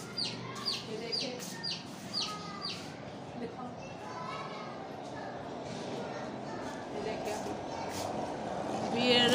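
Chicken chicks peep in quick, high, clustered chirps early on, then fainter and more scattered calls over steady background noise near a household yard.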